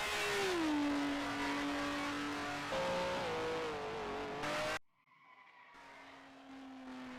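A 1955-era Formula 1 race car in Grand Prix Legends screams past at the end of its final lap, its loud engine note holding high and dropping as it shifts, then cutting out abruptly before a quieter engine tone returns in the distance.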